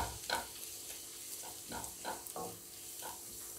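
Ingredients for egg curry sauté in a pan, with a soft continuous sizzle under repeated scraping stir strokes in an uneven rhythm, close up and without talk.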